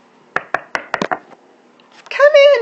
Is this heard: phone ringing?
no